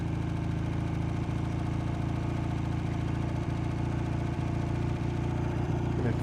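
A Matchless G12 motorcycle engine idles steadily with its choke pushed fully off, a close, continuous low-pitched thrum with a faint mechanical patter and no talk over it.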